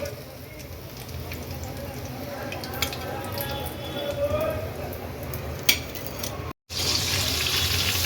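Prawn lollipops deep-frying in hot oil give a steady, dense sizzle and bubbling that runs throughout, with a brief dropout near the end.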